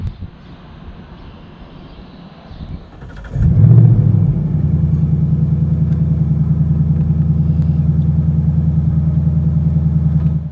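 A Ford Mustang GT Performance Pack 2 setting off on a long road trip, its engine rising into a loud, steady low rumble that holds evenly through the cabin after a quieter start.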